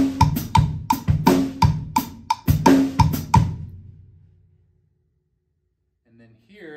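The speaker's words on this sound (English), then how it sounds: "Here I have an LP wood block." An LP wood block is struck in a quick syncopated pattern of crisp, hollow knocks, loud and close. The hits stop and a voice briefly begins at the end.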